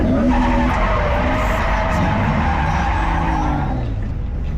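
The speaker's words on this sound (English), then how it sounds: "So first gear, shift to second, give it throttle, or turn, throttle." A Mazda FD RX-7 with a rotary engine pulls hard under throttle, its loud, steady drone rising and easing across a gear shift while tires scrub, heard close from inside the car with no talking.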